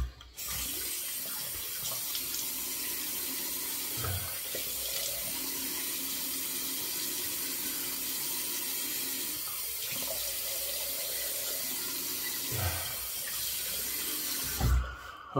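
Cold water runs steadily from a tap into a sink, a close, even splashing rush with a few brief bumps and knocks toward the end, no voices.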